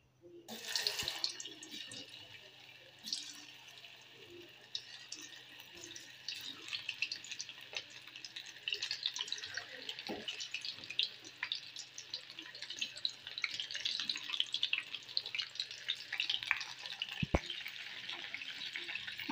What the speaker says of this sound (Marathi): आता हांव सोया चंक्स तेलान फ्राय करून घेता.